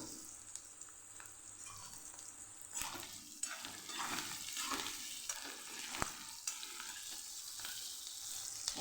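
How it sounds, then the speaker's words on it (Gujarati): Green chilies sizzle and crackle in hot oil, with a spoon stirring and scraping the pan in irregular bursts, close and moderately loud. "મરચાં મસ્ત એવા તતળાઈ ગયા છે"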